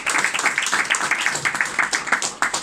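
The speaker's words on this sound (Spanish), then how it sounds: "Aplauso a Víctor." A small audience at a poetry reading gives brief, rhythmic applause, individual claps fairly distinct and close, lasting a couple of seconds.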